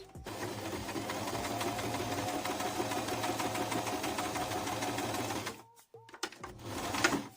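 A sewing machine runs steadily for about five and a half seconds, stitching bias binding onto fabric, then stops; a couple of brief mechanical clicks and handling noises follow.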